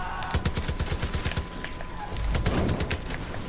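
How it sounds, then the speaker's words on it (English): Rapid bursts of gunfire crackle through a zombie shootout in the video game Far Cry 5, a fast run of shots early on and another dense volley later over a steady game backdrop. "This is gonna be a long shootout"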